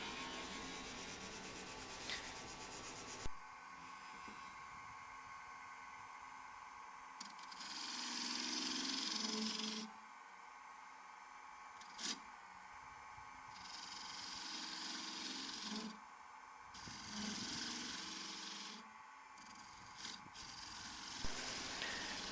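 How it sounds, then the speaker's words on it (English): A bowl gouge hollows out a wooden saké-cup-style bowl on a wood lathe: steady, close scraping cuts over a constant motor hum, broken by brief pauses between passes, with no talking. "This is using the bowl gouge again just to hollow it out."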